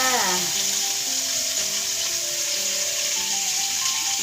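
Onion and garlic stir-frying in a pan for oxtail stew give a steady, close sizzle that runs the whole time, with faint tonal whines layered over the hiss and no talking.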